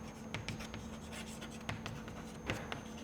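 Marker or chalk writing on a board during a finite-element lecture, with short scratchy strokes and taps at a steady, irregular pace, fairly faint against a constant low hum, with no talking.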